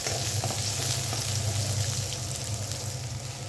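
Green chillies and garlic fry on a medium flame, a steady dense sizzle with faint crackling held at an even level close by, with no voices.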